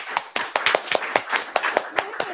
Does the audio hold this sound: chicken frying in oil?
no